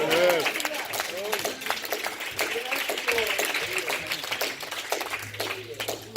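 Congregation clapping steadily through a Baptist church service at Mt Olivet, dense rhythmic claps with voices and a sung or spoken lead running over them.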